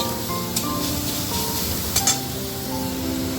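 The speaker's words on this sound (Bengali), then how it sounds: "এটা দেওয়ার পরেও আমি একটু হালকা করে নাড়াচাড়া করে নেব" Grated carrot stirred in a frying pan during cooking for semolina flatbread, a steady sizzle and hiss with a few light scrapes and clinks of the utensil, close and continuous, no talking.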